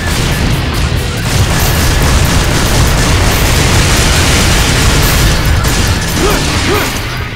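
A bomb detonates in Devil May Cry 2, giving a loud, sustained booming blast that swells after the first second and rumbles on at full strength before easing near the end.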